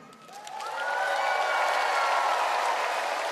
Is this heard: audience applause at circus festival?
yes